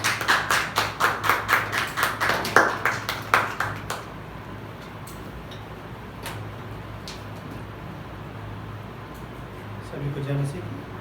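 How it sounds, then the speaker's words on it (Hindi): A church congregation at a Sunday service claps together in a steady, even rhythm for about four seconds, loud and close, then stops, leaving quiet room hum with a few faint taps. "2 से हम ताली बजाएंगे परमेश्वर के नाम को महिमा करने के लिए।"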